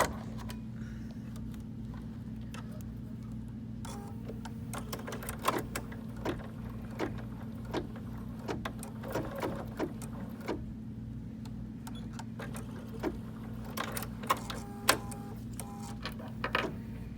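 Embroidery machine stitching a ribbon tack-down, a steady low mechanical hum under a quiet run of small clicks and ticks that grow more frequent toward the end, close and soft with no talk.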